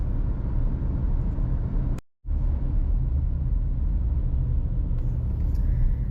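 A car drives through the Las Olas entertainment district of Fort Lauderdale, a steady low road rumble and tire noise from inside, briefly cut out for a moment, with no talk.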